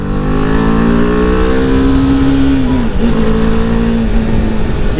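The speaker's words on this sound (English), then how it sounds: "Yeah, but as you rev" A BMW G310R single-cylinder motorcycle engine revs steadily while riding, its tone holding then dipping briefly near the middle before climbing again, loud and close.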